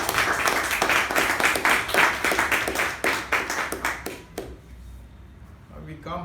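Meeting audience clapping for a speaker, a dense burst of many hands that fades out after about four seconds, followed by near quiet with a faint stir.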